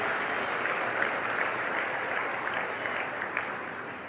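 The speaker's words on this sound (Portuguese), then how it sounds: "Pode aplaudir, pode aplaudir" Steady applause from a church congregation at a sermon, a dense even clapping that holds at full strength for about four seconds with no one speaking over it.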